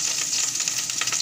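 Hot oil fries and sizzles in a pan while gravy for fried chicken biryani is started, a close, continuous crackle with small pops and faint stirring scrapes.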